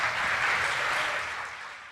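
Audience applause at a storytelling slam event in Scranton, a dense crowd clapping at steady volume for about two seconds, then tapering off toward the end.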